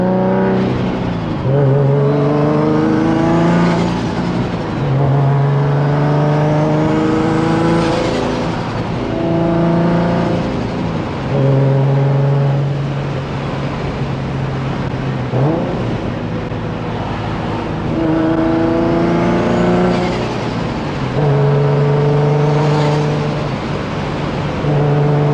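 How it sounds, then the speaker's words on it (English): A turbocharged Z car pulls hard at full throttle, its engine note climbing in repeated long sweeps as each gear winds up, drops and rises again, loud and close throughout. "Give you like the first legitimate pull that I did in this car"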